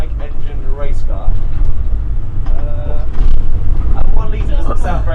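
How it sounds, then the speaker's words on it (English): A 1000cc superbike-engined F1000 race car engine runs with a steady low rumble and a rising whine, close by, while someone talks over it throughout. "it's a 1000cc, so 1 litre motorbike engine race car"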